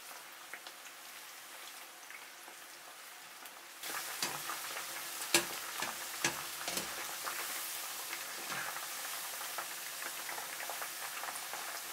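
Beef strips fry and sizzle in a pan, a quiet hiss that grows louder partway through as stirring brings scraping and clattering utensil sounds.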